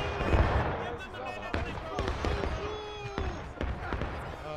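A ragged volley of musket fire cracks out in a War of Rights battle, several sharp shots scattered over a few seconds amid distant gunfire and shouting men.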